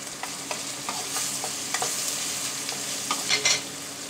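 Onion and tomato being stirred and fried in a pan for a cowpea pod curry, a steady low sizzle with intermittent scrapes and clinks of the spoon against the pan, close and without talking.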